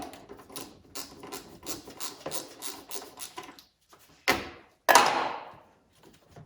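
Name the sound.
wrench loosening bolt on 6.1 HEMI air intake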